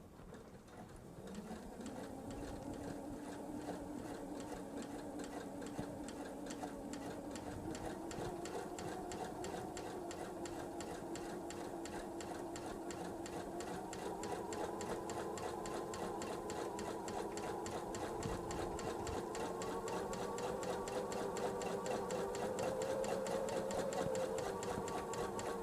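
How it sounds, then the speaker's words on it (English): A sewing machine stitching a Veterans Day quilt along a marked line: a continuous close mechanical whir and rapid needle rhythm whose pitch climbs slightly as the machine speeds up, heard alone. "so now we're going to stitch right on that line"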